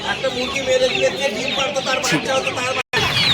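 Sonali chickens cluck and squawk steadily at a busy hen market, with people talking over the flock and a brief silent gap near the end.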